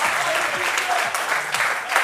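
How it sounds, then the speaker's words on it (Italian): Loud, continuous applause from a studio audience on an Italian television game show, dense clapping from many hands with a few voices faintly mixed in. "Facciamo un applauso al nostro responsabile."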